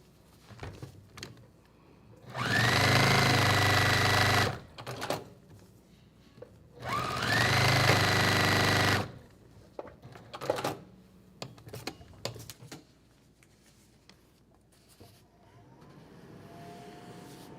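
Sewing machine stitching Star Climber quilt block pieces, two bursts of steady motor whirring of about two seconds each, followed by scattered clicks and handling noises, fairly close.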